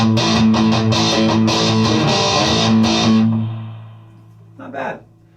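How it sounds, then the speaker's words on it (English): A heavily distorted electric guitar through a Boss ME-90 metal distortion effect chugs out a rhythmic metal riff, then holds a ringing chord that fades, followed by a brief muted strum. "Let's go back to that metal distortion."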